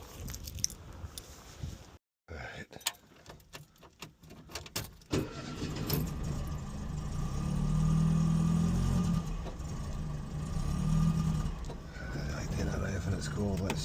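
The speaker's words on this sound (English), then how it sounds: "Let's fire this up and get it warm." A cold Ford Fiesta Mk1 with a carburettor cranks after a short pause and catches, settling into a loud, steady rough idle close by as it begins warming up; a voice speaks briefly near the start.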